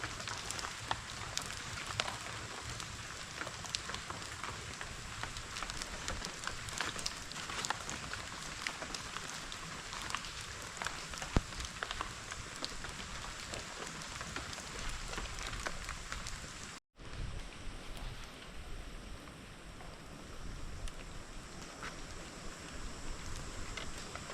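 Soft, steady patter of rain falling on a surface after a storm, a continuous faint hiss with a brief dropout near the end.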